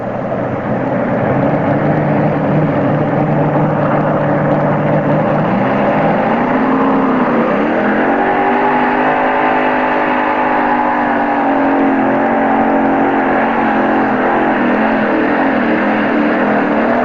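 A modified pulling tractor fitted with Chrysler 392 Hemi engines roars loud and close at a 1992 Bowling Green, Ohio tractor pull, a sustained heavy drone that rises in pitch midway and holds at high revs.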